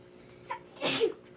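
A single sharp sneeze bursts out near the microphone after a faint intake of breath, set among the quiet of someone building a copper vape coil on an RDA.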